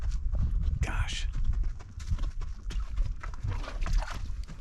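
Wild mustang horses walk over desert ground with a steady, close clip-clop of hooves, a voice talking over parts of it.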